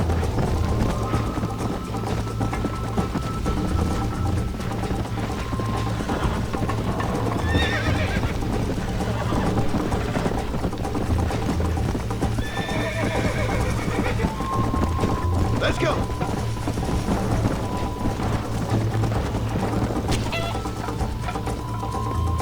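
Horse hooves pound at a gallop in the Red Dead Redemption western game, with whinnies breaking out several times over a steady, dense ambient bed; close and continuous throughout, no talking.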